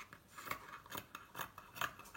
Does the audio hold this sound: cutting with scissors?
yes